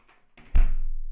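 A door pushed fully shut indoors gives one close, heavy thunk with a low rumble that fades out, after a couple of faint soft taps.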